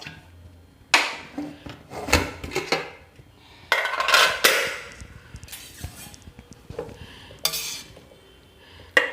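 Shallots are crushed while preparing jackfruit chakka puzhukku, with irregular sharp knocks and clacks of hard utensils striking, scraping and rubbing, some close and loud, others softer, and no talking.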